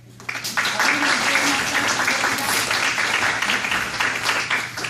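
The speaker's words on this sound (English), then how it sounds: "let's give a hand clap to every workshop that was here" An audience claps for the workshops at a community event after a motivational speech, with dense, steady applause filling the room for about five seconds beneath a low hum.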